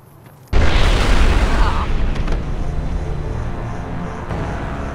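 A loud, sudden explosion in the video game Fallout: New Vegas bursts in after a quiet start, then a rumbling roar decays over several seconds.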